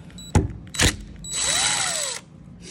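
A power screwdriver backs a screw out of an Andersen door lock actuator: two short clicks, then a steady whirring run of about a second with a falling pitch, close up.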